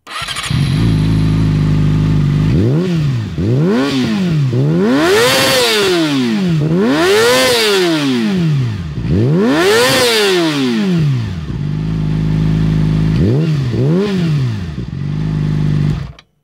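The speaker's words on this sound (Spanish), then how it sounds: "Pues así es como suena la R6." A Yamaha R6 sport motorcycle idles loudly up close, then revs hard in a series of rising and falling blips, some climbing high toward the rev limiter, before dropping back to idle and revving twice more.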